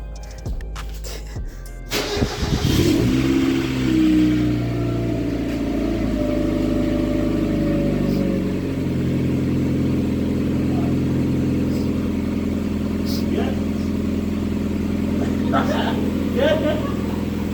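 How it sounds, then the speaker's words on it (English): A 1993 Mazda Miata with its old exhaust starts up after a brief clatter, then settles into a steady, close, rumbling idle that runs throughout with slight fluctuations in pitch. "right now we're going to get some sound tests with the old exhaust"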